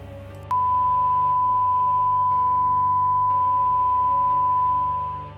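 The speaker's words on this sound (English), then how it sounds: "The noise played from the color bar sine wave also plays a sort of helplessness in movies" A steady, pure electronic sine-wave test tone of the kind played with colour bars, at about 1 kHz, starts abruptly and holds unwavering over a low background hum, fading slightly at the end.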